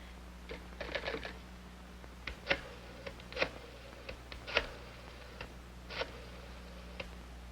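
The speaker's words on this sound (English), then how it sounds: "I dial and nothing happens." Someone dials an old telephone indoors, producing a scattered series of faint clicks and ticks across several seconds against a steady low hum.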